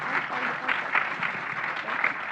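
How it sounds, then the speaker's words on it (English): Audience applause for participants in a student body president debate, a steady wash of many hands clapping at moderate volume throughout. "So please give them a round of applause for all of the effort that they have put into this."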